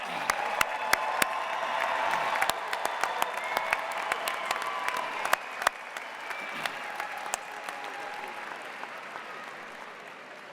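Audience applause at a university commencement ceremony, a sustained dense wash of clapping from a large crowd with individual sharp claps popping out, gradually thinning toward the end.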